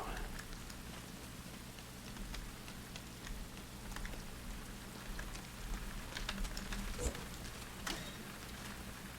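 Steady rain patters quietly in a video game, a soft, even hiss of drops with a few scattered ticks and taps on top.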